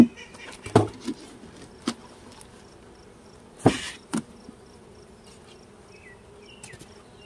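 Honeybees buzz around mini mating nucs in an apiary, a faint steady hum under scattered close knocks and thumps of handled equipment, with no talking.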